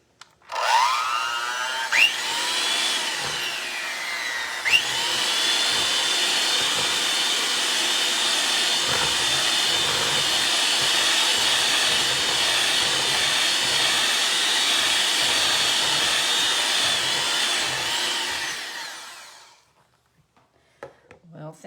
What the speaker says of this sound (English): But I'm going to make this nice and blend it first.